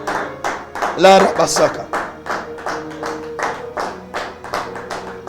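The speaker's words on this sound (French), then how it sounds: "Acclamez bien, acclamez très fort." A church congregation claps in a steady rhythm, each clap a sharp close burst. Loud voices shout and sing over the clapping throughout.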